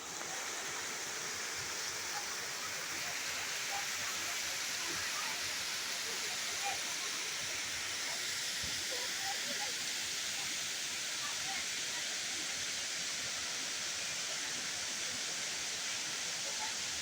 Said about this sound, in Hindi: यहाँ एक झरना भी है